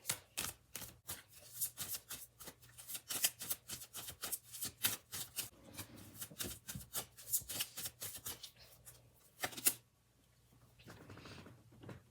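Oracle chakra cards being shuffled, a fast run of close, crisp riffling snaps for about ten seconds before it drops to a quiet rustle; no talking.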